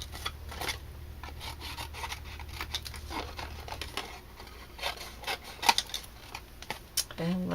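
Scissors cutting paper at an angle while making a Stampin Up barn door treat holder, a series of short, crisp snips and rustles up close at moderate loudness, with a low hum underneath and a voice talking over parts of it.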